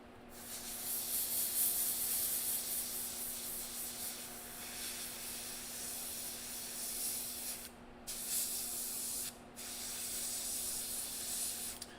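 An airbrush spraying paint in a home garage workshop gives off a soft, continuous hiss in long bursts, broken by two brief pauses, with a faint steady hum underneath.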